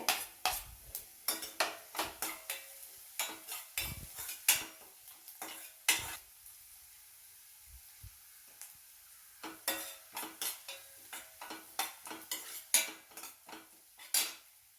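Chopped onion and cut coconut sauté in a pan, stirred with a utensil in bursts of scraping, clattering strokes over a quiet, faint sizzle, with pauses between rounds of stirring and no talk.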